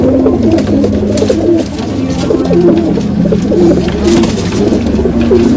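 Punjabi Malwai pigeons coo in a steady, overlapping series of low throaty calls, close and loud, continuing throughout without speech.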